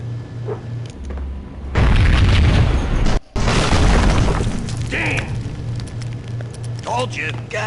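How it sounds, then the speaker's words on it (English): A loud boom bursts out in the Max Payne video game on PlayStation 2, its roar sustained for about a second, breaking off briefly, then rumbling on and fading, with a voice talking over the surrounding game sounds. "I thought it was a bomb for sure"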